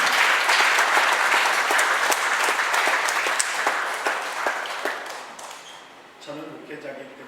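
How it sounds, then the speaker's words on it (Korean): Congregation applause during a Korean Sunday church service, a full, steady wash of clapping from many people that slowly tapers off, and a voice begins speaking at the end. "박수 한번."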